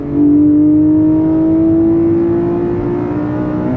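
A Porsche 718 Cayman GTS 4.0's 4-liter flat-six engine revs loudly and steadily, its strong droning pitch climbing slightly as the car accelerates, with no voices.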